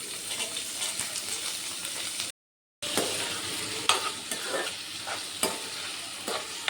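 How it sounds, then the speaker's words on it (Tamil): Potatoes frying in a pan for a spicy dish: steady crackling sizzle with scraping stir strokes, broken by a brief silent gap, and no voices. "ஒரு 10 நிமிஷம் இப்படியே ஃப்ரை பண்ணி விட்டுட்டே இருங்க"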